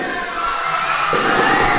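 Basketball crowd at a live amateur league semi-final game cheering and shouting, a dense roar that swells louder midway through, close and continuous.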